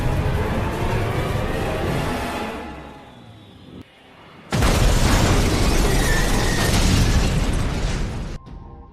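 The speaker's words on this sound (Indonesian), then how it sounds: "Dia mendorong mobil mereka hingga masuk ke jurang dan meledak." A roaring car explosion bursts after a brief lull as a car goes off a cliff, a loud, sustained blast of noise that cuts off abruptly.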